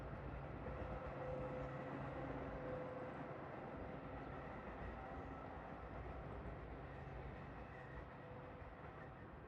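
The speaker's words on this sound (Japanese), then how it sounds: "帰りの道中で、今度は上り列車が見えました。" An up-line train passes near Chichibu, Japan, heard as a faint, distant, steady rumble with a soft rolling texture that lasts the whole stretch.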